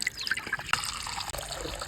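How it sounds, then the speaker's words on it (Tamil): Water pours into a cooking pot on the stove at the start of a drumstick leaf soup, a close, continuous trickling and splashing stream with no voices. "சட்டி வச்சுக்கலாம், தண்ணி ஊற்றிக்கலாம்"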